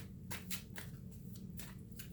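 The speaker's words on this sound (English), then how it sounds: "I'm going to give it a good shuffle." Tarot cards shuffled by hand produce a few soft riffling bursts, close and quiet, over a steady low background hum.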